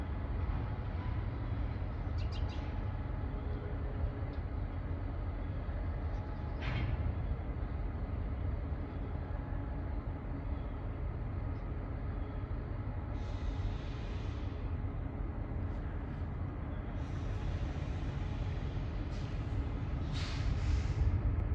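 A freight train on the Norfolk Southern line in Kenova, West Virginia pulls back onto the main line after dropping cars, giving a steady low rumble of rolling stock with occasional squeals and clanks, heard from a distance throughout.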